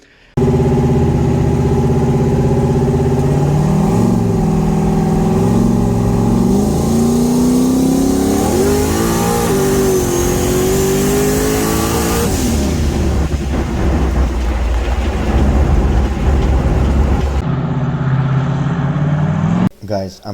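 A Foxbody Mustang with high-travel front struts launches hard on the street, its engine revving loud and close with rising pitch through the gears before fading; talk is heard over it.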